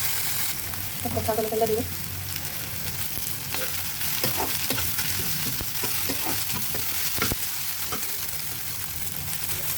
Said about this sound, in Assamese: আদা নহৰু পেষ্টটো, সেই আদা নহৰু পেষ্ট অলপ সৰহকৈ হৈছে, অলপ সিজিলে দিওঁ।